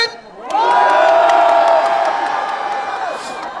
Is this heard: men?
yes